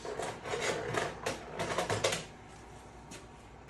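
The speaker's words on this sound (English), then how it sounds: "Don't normally recommend filing wood, but I don't really have a proper rasp." A metal file rubbed over a wooden carrying-case part for a jaw harp, several close, scratchy rasping strokes in the first two seconds, then quieter, with one short word spoken.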